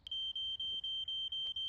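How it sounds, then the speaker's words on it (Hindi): Smoke alarm in a Fireman Sam cartoon beeping in a steady rapid series of high, thin electronic chirps, about seven in under two seconds, over a faint low background rumble. "ये किसका स्मोक अलार्म बज रहा है?"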